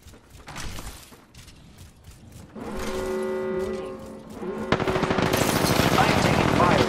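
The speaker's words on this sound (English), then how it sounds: "I am taking fire, friends." Gunfire in a battle royale shooter: a loud, sustained stretch of rapid automatic shots builds in the second half, with lighter scattered shots and faint background game sounds before it.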